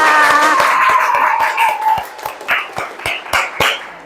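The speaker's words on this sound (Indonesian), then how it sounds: "Masya Allah, tepuk tangan buat teman kalian." A classroom gives a short round of applause for classmates after a group poem reading in an Islamic education lesson. A sustained tone fades out as sparse, loud, individual claps ring out closely, about a dozen spaced hand claps.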